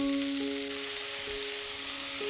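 Vegetables for Chinese spring rolls frying in a pan, a soft continuous sizzle at moderate level with a steady tone humming alongside and no talk.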